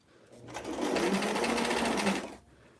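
A sewing machine stitching a doll dress for a square dance outfit, one close, steady whirring run of about two seconds that speeds up and then stops, with no talk over it.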